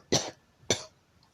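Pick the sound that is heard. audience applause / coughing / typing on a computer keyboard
coughing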